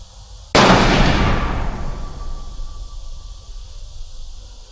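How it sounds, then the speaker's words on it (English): A rifle fouling shot fired at a target: one sharp, loud report that rings out and decays slowly over several seconds into a low background hum. "This is the second fouling shot."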